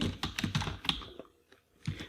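Quick, light keystrokes on a computer keyboard as company details are entered into a sign-up form, a short burst of close, quiet clicks, a pause, then a few more taps.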